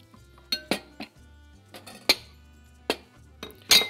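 Ceramic and metal kitchen dishes clink and clatter as a larger mixing bowl is set out, several sharp knocks spaced irregularly, close and with no talk.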